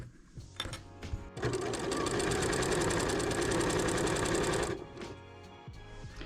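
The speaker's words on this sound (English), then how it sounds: "I am just sewing my back bodice to my back skirt now" Sewing machine stitching a dress back bodice to its back skirt for a Diane Von Furstenberg V2000 wrap dress, running steadily and loud for about three seconds after a few short starts, then stopping.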